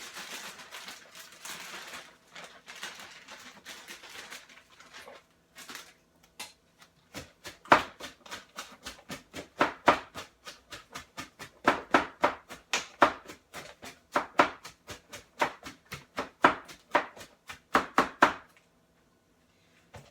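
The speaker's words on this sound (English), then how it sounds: "I'm going to add that in and chop it down." Romaine, radicchio and carrots are chopped on a board, first softly, then in quick, close, sharp knife strikes at an uneven, brisk rhythm, clear and without talk.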